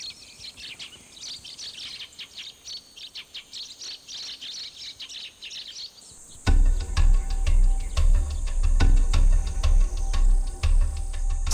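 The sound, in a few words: sparrows chirping at Samneung, Gyeongju Namsan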